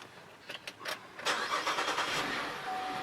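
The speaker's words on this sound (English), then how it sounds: "Car started." A GMC Acadia engine starting right after a battery change: a few quiet clicks and short cranking pulses, then the motor catching and rising into a steady, moderately faint running hum.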